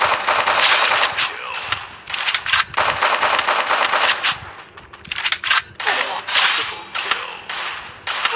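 Gunfire in the mobile battle game Free Fire during a ranked Clash Squad match: rapid bursts of loud, clipped synthetic shots and impacts come in dense clusters with short pauses, close and harsh.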